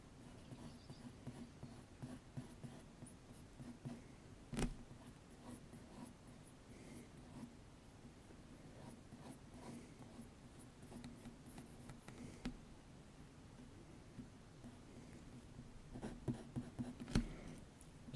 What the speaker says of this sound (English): So first I'm sketching